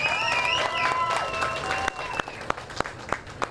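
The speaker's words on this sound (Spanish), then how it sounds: "señorita Emily Calleja de Intipucá, a quien también le vamos a brindar un cariñoso aplauso" Audience at a pageant coronation claps after a contestant is announced, a steady wash of applause with sharp individual claps toward the end, while an overlapping voice or music line carries through the first half.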